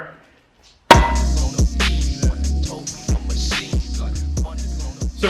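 Repeated hard hammer blows on a CD009 transmission case during a 1JZ/2JZ swap into an IS300, a steady series of sharp metallic strikes close by after a brief quiet start, with no talk.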